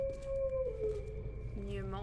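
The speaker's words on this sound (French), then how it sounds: "Non, c'est carrément des chiens qui traînent." Dogs in the video game Resident Evil 2 give a low, drawn-out howling growl that wavers in pitch, fairly faint under game ambience, with a brief rising whine near the end.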